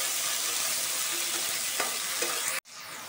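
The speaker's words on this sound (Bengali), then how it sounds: "আদা রসুনের পেস্ট দিয়ে আমি এটাকে একটু মিনিট কষিয়ে নেব যাতে কাঁচা গন্ধটা চলে যায়" Ginger garlic paste sizzles steadily as it is sautéed in a pan for a Bengali rui fish roe kalia, a continuous frying hiss with a couple of light stirring knocks before it cuts off abruptly.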